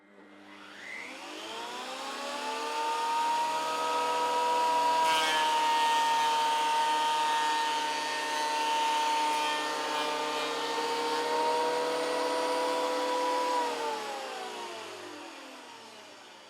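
A Triton TPT125 317mm thicknesser spins up and planes a wooden board, its loud, steady motor whine with strong tonal harmonics holding for about twelve seconds before winding down at the end.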